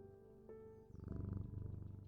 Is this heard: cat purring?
yes